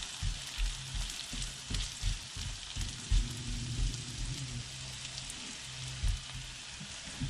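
Banana slices sizzle and caramelise in a hot pan for a banoffee cake, a steady close frying hiss broken by soft stirring knocks.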